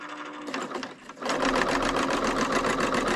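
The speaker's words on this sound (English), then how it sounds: "now I'm just going to stitch this off" A Bernina serger runs fast and steady, stitching off a chain after the stitch length is set to its longest. The machine stays close and loud, with a rapid, even mechanical whir after a brief uneven start.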